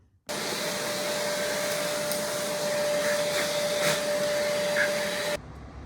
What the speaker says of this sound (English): So we're gonna go ahead and vacuum that up now.